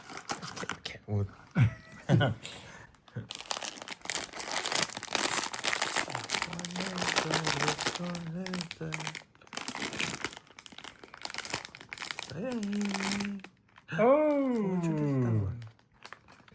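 Crinkly plastic bag rustling in bursts as a treat is pulled out, close to the mic, interleaved with excited talking and a high rising vocal sound near the end.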